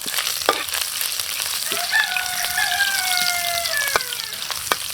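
Ginger sautéing in a pan for a beef and tomato stir fry, a continuous close crackling sizzle with a few brief clicks and faint tonal squeaks over it.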